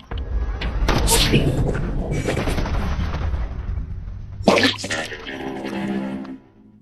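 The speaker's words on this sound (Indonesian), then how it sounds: "Von pun menembak mata Luz sebagai ancaman untuk Machete." A gunshot in an action film scene, heard as a couple of sharp loud bangs amid a dramatic soundtrack with some film dialogue around them.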